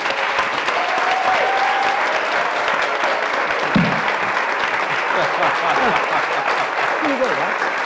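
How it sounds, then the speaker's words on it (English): Audience applause for storytellers at a live storytelling event, a steady, dense round of clapping that fills the whole stretch at even loudness, with a few voices faintly audible underneath. "send our bold storytellers home with one more applause as thank you"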